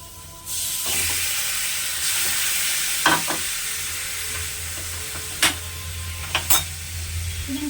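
Spice paste for chicken biryani fries in a pan with a steady broadband sizzle, interrupted by a few sharp scraping clicks from a spatula stirring it.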